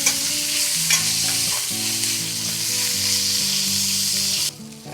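Ground meat fries in coconut oil with tomatoes in a pan, sizzling loudly and steadily while it is stirred, then the sizzle drops suddenly near the end.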